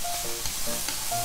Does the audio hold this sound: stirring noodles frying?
yes